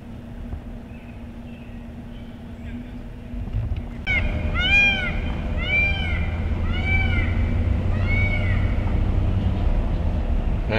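A peacock gives about five loud wailing calls in a row, starting partway through, over a steady background hum outdoors.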